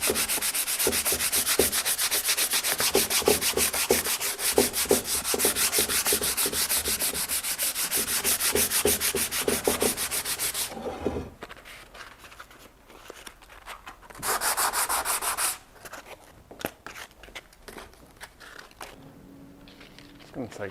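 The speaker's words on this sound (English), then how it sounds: "Right, coarser sandpaper." Coarse sandpaper rubbing on a marble tray in quick rhythmic back-and-forth strokes for about ten seconds, then stopping, with a short burst of scraping later and quiet talk in between.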